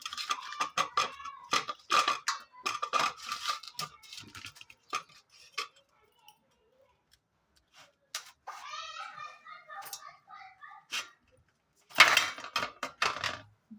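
A knife chops food on a board in a string of quick, sharp taps, with pauses between the bursts and a louder run of cuts near the end, close and fairly crisp.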